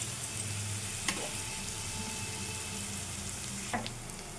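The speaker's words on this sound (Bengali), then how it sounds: "পেঁয়াজ ভাজাভাজি হয়ে গেছে" Onions fry in a pan ahead of garlic and ginger, making a continuous close sizzle with two sharp stirring clinks against the pan.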